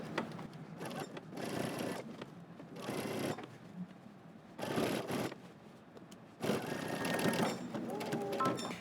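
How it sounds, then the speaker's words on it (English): A sewing machine stitches a jacket sleeve head in several runs of a few seconds each, a fast close mechanical whir broken by short pauses, with a voice talking between runs. "All right, so I'm going to start sewing"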